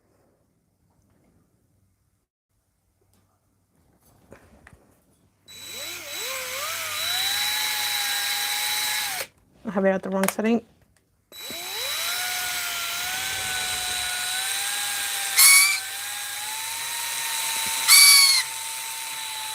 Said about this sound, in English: But I'm gonna start drilling